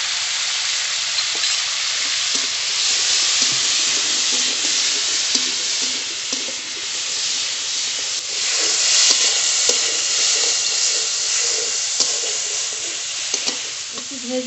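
Pieces of raw mango fry in a pan with salt and a little turmeric, giving a loud, continuous close-up sizzle with occasional scraping clicks from stirring and no talk.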